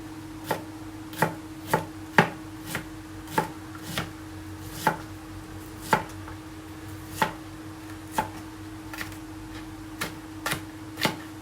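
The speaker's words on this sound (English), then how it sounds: "when I slice with my onion, it will be also very fine slices" An onion is sliced finely for a salad: about twenty crisp knife chops strike a board at a steady, unhurried rhythm, close and distinct over a faint constant hum, with no talk.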